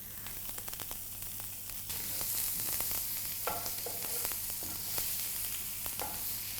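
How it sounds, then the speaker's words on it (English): Asparagus frying in butter left over from a steak in a pan, a steady close sizzle with occasional pops and brief stirring clicks throughout, no talking. "I've left some butter in the pan from the steak, and I'm going to add my asparagus."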